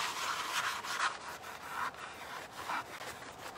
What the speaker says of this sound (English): I just want to make sure this is burnished really well